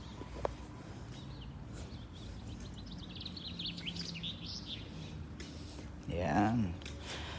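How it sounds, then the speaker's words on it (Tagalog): Birds singing outdoors on a sunny walk, faint high chirps and twittering trills scattered through a quiet background, ending with a louder nearby call. "Uy, naririnig na mga ibon."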